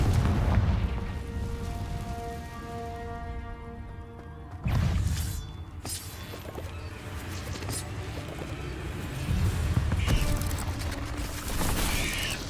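Confringo blasting spell explosions in the video game Hogwarts Legacy: heavy booming blasts under a dense, rumbling game soundscape, with a sharp burst near the middle and further impacts later on.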